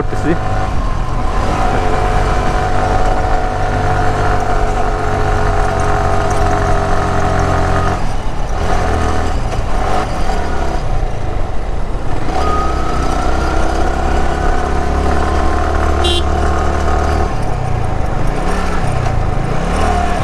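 Motorcycle engine droning steadily while riding a rough, badly broken mountain road toward Tazing Dong near Thanchi, with rumbling shifts in pitch as the bike labors over bumps; a voice speaks over the engine.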